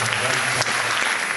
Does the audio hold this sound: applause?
yes